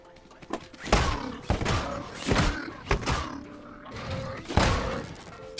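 Repeated hits on a haybot in Scrap Mechanic, about five or six dull, heavy thuds spaced roughly a second apart, each fairly loud and short, with a low hum between them.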